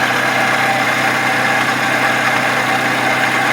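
Engine running at idle on a 2011-2016 Scion tC with the 2.5L four-cylinder, its belt tensioner giving off a steady rotating whirr over the motor's hum, close and continuous with no talking.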